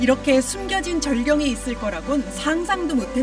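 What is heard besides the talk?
No distinct noise like a dog, phone or traffic.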